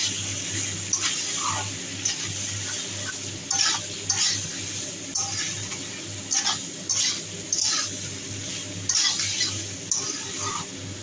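Poppy seed paste with red chili powder frying in a pan for a Bengali mixed vegetable curry, a low steady sizzle broken by repeated scraping strokes of a spatula, close and moderately loud, with no talking.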